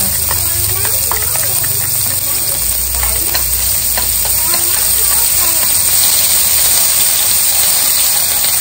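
Tofu and mock meat stir-fried in a pan for a vegetarian noodle soup, sizzling loudly and steadily with scraping stirs throughout, while a voice talks faintly underneath.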